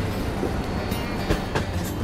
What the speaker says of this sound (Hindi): दुरंतो एक्सप्रेस और प्रयागराज एक्सप्रेस एक साथ निकली है